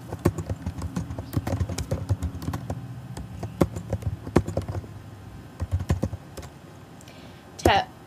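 Quick, uneven keystrokes rattle on a Mac computer keyboard, close and crisp, in bursts with short pauses, ending with a single heavier key press.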